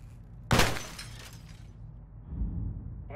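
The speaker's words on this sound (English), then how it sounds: "Glass broken hallway." Glass shatters with one sharp, loud crash in a video game hallway, followed by a brief spray of falling shards that fades into low background hum.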